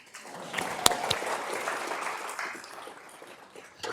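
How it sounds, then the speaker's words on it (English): Audience applause at an Active Aging Week lecture, thanking a community life team: a sustained round of clapping from a moderate crowd with a few sharper nearby claps, steady and then gradually thinning out. "Round of applause to Community Life."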